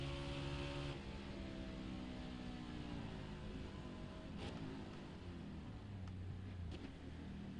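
A NASCAR race car at full throttle down the straightaway in a video game: a sustained engine roar with climbing tones, continuous and close.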